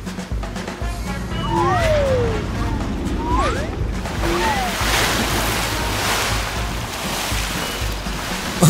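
Cartoon water sloshing and splashing as an animated super truck scoops lake water to fight a fire, a steady wash of surf-like noise with short whooshing effects over a low musical bed.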